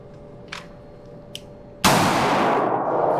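A handgun with a red dot sight fires a single sharp, loud shot at a 5-yard range after a quiet lead-in, and a dense roar of noise lingers to the end.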